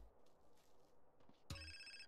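A phone rings in GTA San Andreas, a sudden electronic ringtone that starts partway through and holds steady to the end after quiet game ambience.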